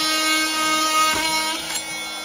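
A power tool cutting pipe near a broken valve: a high tonal whine with steady harmonics and brief bursts of cutting noise, close and fairly loud, with no talk.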